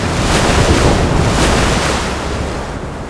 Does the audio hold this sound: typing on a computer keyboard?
no